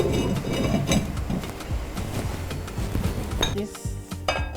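A pot of jollof rice is stirred and covered, with clanking metal, utensil clinks and a lid rattling onto cookware at close range, busy and continuous, ending in sharper knocks.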